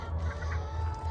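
Hens in a pen give soft, short clucks over a constant low hum, fairly close, with no one speaking.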